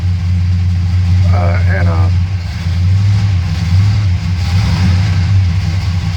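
A 1979 Chevy C10 Silverado truck sits with its engine idling loudly after a cold start, a steady low rumble with slight revs, close by, and a short squeal mid-way.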